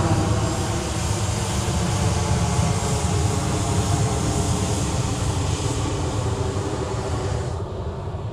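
A FedEx Boeing 777 departs Sydney Airport at night, its engines a loud, steady roar that holds for several seconds before easing slightly at the end, with no talk over it.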